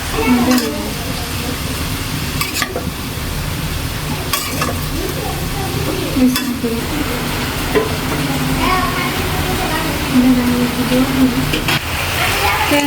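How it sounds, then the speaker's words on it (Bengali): Curry sizzles and is stirred in a pan, with scraping of a utensil and steady frying hiss throughout; a voice talks over it at times. "তরকারিটা কষানো হয়ে গেছে"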